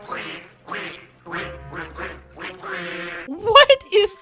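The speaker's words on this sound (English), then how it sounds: "a show with ducks in a magical rainbow wonderland who sing classical music by quacking" Cartoon ducks in a TV show in a magical rainbow wonderland quack to classical music, a series of close nasal quacks in a rhythmic run, with a brief voice or chirp near the end.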